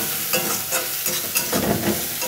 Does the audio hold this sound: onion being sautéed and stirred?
yes